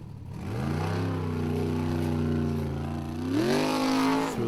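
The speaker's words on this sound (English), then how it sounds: "Probably go full throttle to try and spin it." A Formula Offroad buggy engine screams at full throttle at a World Cup event, holding a steady high rev for several seconds before climbing sharply higher near the end, loud and close.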